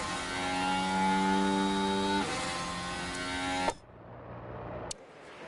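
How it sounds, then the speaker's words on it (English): Racing car engine noise from the F1 Manager 24 video game on PS5, a steady buzzing, harmonic-rich drone that shifts pitch midway and then cuts off abruptly, leaving quieter background hum. "Yeah, we got engine noise."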